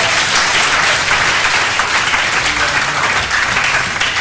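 A church congregation applauds continuously, a dense, loud wash of many hands clapping together throughout, with no pauses and no distinct voices standing out.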